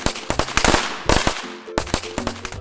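Cartoon firecrackers for Diwali going off in a rapid string of loud, sharp pops and crackles, close and crowded together with brief gaps between bursts.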